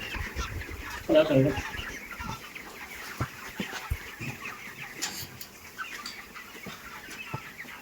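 Many broiler chickens at a poultry farm cluck and murmur throughout, a busy flock at moderate distance, with a louder burst of clucking early on.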